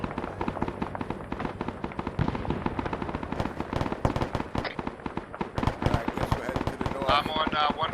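Automatic weapon fire crackles in rapid bursts through a military video game battle set in the Vietnam-era Operation Lien Ket, loud and continuous with scattered sharper reports, while players talk over radio throughout.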